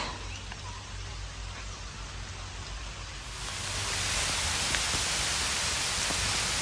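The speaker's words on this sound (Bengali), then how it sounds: "ভালো বৃষ্টি পড়তেছে এই যে দেখো খুব বৃষ্টি" Heavy rain pours down outdoors near mango trees, a dense steady hiss that swells louder partway through and continues without a break.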